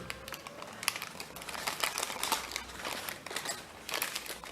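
Paper being creased into mountain folds for an origami dobsonfly, soft close crinkling and light tapping scrapes in quick irregular bursts, quiet and alone.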